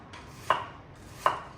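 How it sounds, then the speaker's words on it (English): A knife chops through an onion on a cutting board, two crisp separate strikes with a short hiss of slicing before each, close up and alone. "you can chop up your onions really any way you want"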